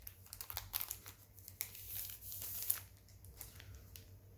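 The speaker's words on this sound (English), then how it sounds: "so let me go ahead and get this out of the plastic." A Sony Xperia 1 III phone being pulled out of its plastic wrapping, with close crinkling and crackling bursts and a few sharp tearing rustles over several seconds, no talking.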